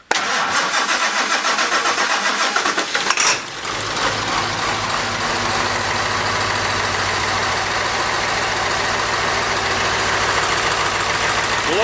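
A Ford Powerstroke 7.3 diesel cold-starts after glow plugs warm: a few seconds of cranking, then the engine catches and settles into a loud, steady, rattly idle close by.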